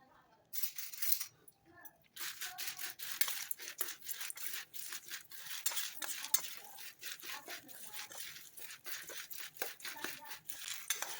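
Chili powder stirred by hand into a crispy avarai bean mixer snack, a rapid run of close dry rustling and crunchy scraping strokes with brief pauses, fairly faint.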